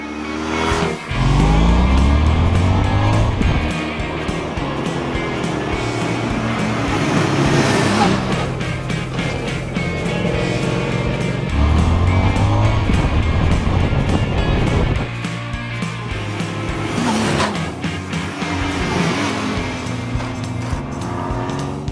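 A 2014 Honda CTX1300 bagger cruiser motorcycle being ridden, with the engine revving and shifting through rising pitch sweeps under loud wind rush that holds steady throughout.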